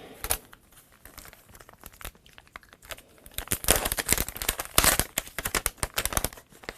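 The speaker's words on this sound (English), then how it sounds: "So what I'm going to do is I'm going to die cut this first." Die cutting paper for papercrafting: dense crinkling, rustling and crisp tearing-like crackles, quieter at first then building into busier, louder bursts of close paper handling.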